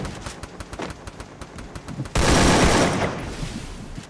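Gunfire in the Free Fire video game, a scattered run of light shots followed by a sudden loud, sustained burst of heavy fire that slowly fades.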